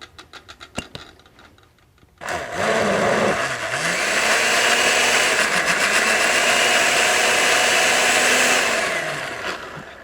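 A blender roars into life after a few clicks and whirs steadily for several seconds, loud and close, churning habanero hot sauce, with its pitch dipping and shifting as the contents move.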